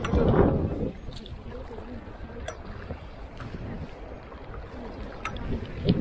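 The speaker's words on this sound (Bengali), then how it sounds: "নদীর বিশাল স্রোত এটা বিয়াস নদী" Rafting on the fast, strong current of the Beas river in Kullu, a broad roar of rushing water and wind buffeting the microphone, with a louder burst at the start and a few brief splashes.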